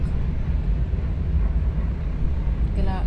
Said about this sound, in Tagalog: Grabe ang baba lang ng helicopter.